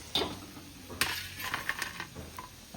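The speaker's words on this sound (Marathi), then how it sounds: "हे बटाटा तेलामध्ये असा छानपैकी असा फ्राय करून घेतलेला आहे" Potatoes frying in hot oil in a pan until browned, with a soft sizzle broken by a few scraping stirs and light clinks of a utensil against the pan.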